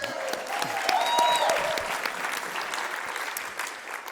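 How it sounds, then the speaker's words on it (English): A crowd at a company event gives a round of applause for a named attendee, a moderate, evenly sustained patter of clapping from many hands, somewhat distant, with a faint whistle and cheer mixed in. "Let's give Meredith a round of applause."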